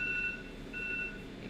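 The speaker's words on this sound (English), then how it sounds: "that's actually my alarm." An alarm beeps in steady repeating bursts of a thin, high tone, sounding through a quiet room with a low background hum.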